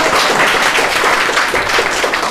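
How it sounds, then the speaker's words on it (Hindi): Loud, close applause from students in a coaching-centre classroom, a brisk dense patter of many hands clapping together for a short burst with no talk. "जोरदार तालियां"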